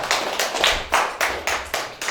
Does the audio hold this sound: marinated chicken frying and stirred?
no